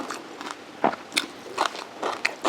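Crispy fried pork rinds are bitten and chewed up close, giving about eight sharp, crunchy cracks spaced roughly every third of a second against a quiet background.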